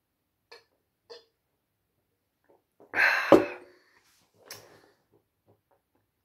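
A loud, drawn-out belch after a big sip of Taiwan Beer Gold Medal 5% lager, rising and then breaking off, with a few faint small vocal noises and clicks before and after in an otherwise quiet room.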